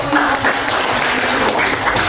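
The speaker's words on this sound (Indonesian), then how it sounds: "Tepuk tangan untuk semua" Applause for everyone in a classroom at the end of a problem-based learning history lesson, a steady wash of clapping from a room of students lasting the whole stretch.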